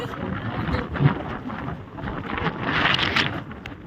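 Heavy storm rain and gusting wind in Tagaytay roar steadily against the microphone, a loud, rumbling wash that swells and buffets irregularly with no voices over it.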